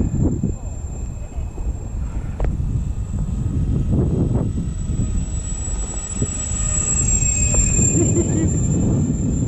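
An RC bomber model airplane drones overhead at slow speed, a thin high-pitched motor whine steady over a breezy rumble while people talk nearby.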